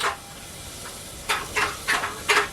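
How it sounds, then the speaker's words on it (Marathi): Steam hisses from a hot pot of water on a wood-fired clay stove in several short bursts, near and fairly loud, over a faint steady background hiss. "टोप गरम होत आहे पाणी आहे बघा पाण्याची वाफ होते कशी"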